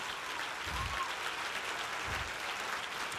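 A church congregation applauds the Lord during a Spanish-language sermon, a steady wash of clapping from a crowd filling the space at moderate level with no voice over it.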